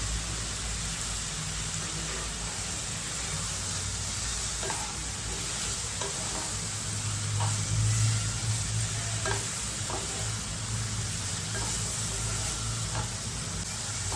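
Onions with salt sautéing in a pan for a dried fish dish, a constant soft hiss and sizzle with faint, irregular stirring scrapes throughout and no voices.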